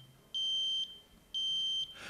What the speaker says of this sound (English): it will activate an alarm signal in the form of an audible sound and with a flashing light